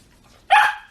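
Queenie the dog lets out a single loud, close bark after a brief quiet moment, sharp onset trailing off quickly.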